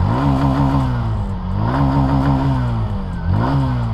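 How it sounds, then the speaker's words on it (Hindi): A TVS Sport 110 motorcycle engine with self start, running close by and revved in three rising and falling surges over a steady mechanical clatter, with no voices. "स्टार्ट कर लेता हूँ, सेल्फ स्टार्ट आपको मिलता है, साथ ही में आपको किक स्टार्ट का भी ऑप्शन है।"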